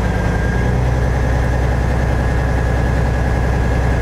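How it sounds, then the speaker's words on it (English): A truck engine idles steadily close to the microphone after a cold start, its deep, even low rumble running unbroken throughout with a faint steady whine above it. "So I just started the truck up."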